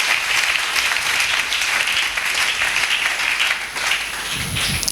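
A church congregation applauds and cheers loudly and steadily at a service on spiritual warfare, a dense wash of clapping that holds level before easing slightly near the end.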